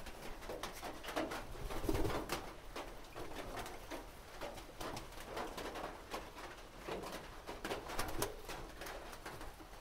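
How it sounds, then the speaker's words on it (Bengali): Pigeons cooing softly while rapid pecking and tapping sounds patter throughout as they eat feed, a busy, continuous mix of feeding noises. "সবগুলো কবুতরে খুব সুন্দরভাবে খাবারটা খাইতে আছে"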